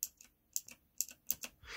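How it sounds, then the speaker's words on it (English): Old keyboard fitted with clicky switches on a regular Cherry MX mount, giving a softer click than MX Blues; a handful of separate close keystrokes, each a crisp tick, spaced unevenly and fairly quiet with no voices. "These have a much softer click compared to MX Blue / MX Blue clones."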